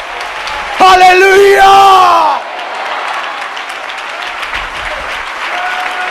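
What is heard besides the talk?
congregation applause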